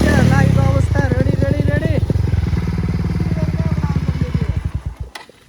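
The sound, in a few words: motorcycle engine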